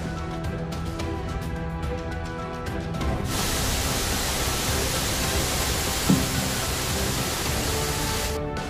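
Twin waterfall of Ssangpokpo on Dutasan mountain, a steady broadband roar of falling water that swells after a few seconds and holds close and loud with no break.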